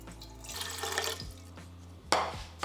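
Water measured into an empty mixing bowl for sourdough bread dough, a close, splashing pour that comes in bursts with brief pauses, trickling and sloshing against the bowl.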